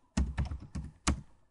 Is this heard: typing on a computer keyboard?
yes